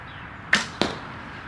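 Two sharp arrow releases from a handmade wooden bow, crisp snapping thwacks a fraction of a second apart, close and clear against a quiet outdoor background with no talking.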